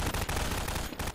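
Rapid gunfire in Garry's Mod, a dense, loud burst of shots running almost continuously with a brief gap near the end.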